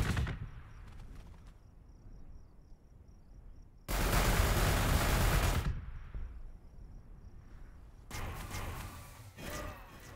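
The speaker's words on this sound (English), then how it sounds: "I'm going to take some Overwatch fire" Overwatch gunfire from units in the Warhammer 40,000: Gladius strategy game, a loud dense burst of shots lasting about two seconds, then a second rougher burst, set against quiet ambient game noise.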